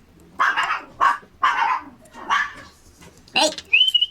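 Guarding dogs bark at a food delivery, giving five or six loud, close barks spaced about half a second apart, followed by a brief high whistling tone at the end.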